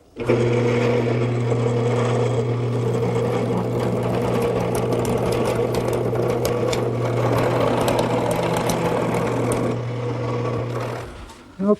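A wood lathe spins a quilt rack piece with a steady, continuous motor drone and whine, plus a light scraping texture throughout, stopping abruptly near the end.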